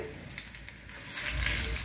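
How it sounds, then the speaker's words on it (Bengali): Cumin and bay leaf tempering in hot mustard oil, a close sizzle that swells suddenly into a loud, bright crackle partway through, with a couple of light utensil taps before it. "জিরে তেজপাতা আপনারা ফোড়ন দেবেন"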